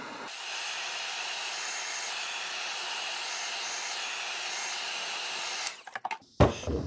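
A heat gun blows with a steady, loud hiss and whir while heating a banjo fitting onto a hose, running evenly for several seconds before cutting off into brief handling clatter.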